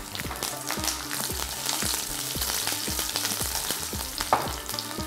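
Dried red chillies and garlic sizzle in hot oil as a tempering for a bottle gourd curry, a close, steady frying crackle with repeated stirring scrapes.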